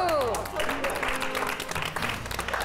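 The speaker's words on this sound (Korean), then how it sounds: "박수!" Studio audience applauding on a Korean TV quiz-style history show, a steady dense wash of clapping throughout, with voices speaking over it at the start.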